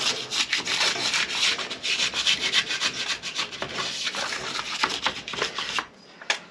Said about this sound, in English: So just run the scraper